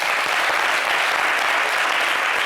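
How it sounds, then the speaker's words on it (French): Sustained applause from an audience fills the space, a dense steady wash of many hands clapping at close range with no gaps, carrying on evenly throughout. "Il faut applaudir le Seigneur."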